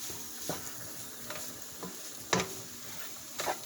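Ground hamburger meat is stirred around in a frying pan for chili mac, with a few scattered scraping stirs over a soft, steady sizzle, fairly quiet and close.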